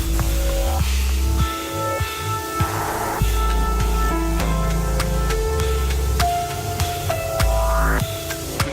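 A steady hiss of water sprayed across a car to coat it in a thick layer of ice, continuous and close, with tonal humming lines running underneath throughout.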